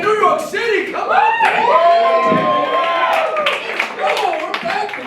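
Comedy club audience in New York City cheering, whooping and clapping, a loud, continuous crowd roar with shouts rising throughout, close and full.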